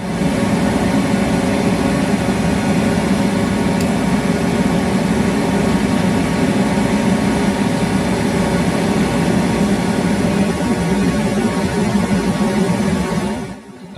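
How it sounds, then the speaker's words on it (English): A laser cutter cutting a wooden puzzle board, with a loud, constant whir of fans and exhaust running evenly throughout and stopping abruptly at the end. "Observing the laser cutting process unfold is undeniably gratifying."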